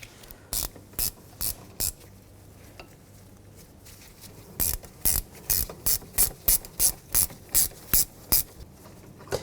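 A socket ratchet turns a bolt on the rear brake of a 2002-2006 Nissan Altima near the lower control arm, clicking in quick, evenly spaced bursts, a short run early and a longer rhythmic series later, close and crisp.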